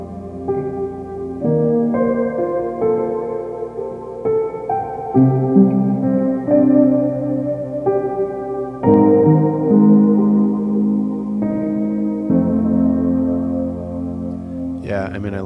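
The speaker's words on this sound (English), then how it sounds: "I love Strymon reverb, so I'll put it on anything" Virtual instrument samples re-amped through a Strymon reverb pedal: sustained chordal tones with a lush, washing tail, changing every second or so, steady and close throughout, ending on a brief brighter flourish.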